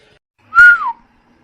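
A man whistles a single sharp note that rises then slides downward, short and fairly loud, with no talk around it.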